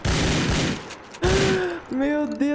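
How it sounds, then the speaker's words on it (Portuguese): Gunfire in GTA IV online as women shoot at the player: a dense, loud burst of rapid shots, then a voice talking over fainter shots. "O cara colocou as mulheres pra atirar em mim"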